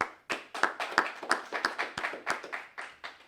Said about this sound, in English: I'd like us all to give them a round of applause for everything they do to keep our community safe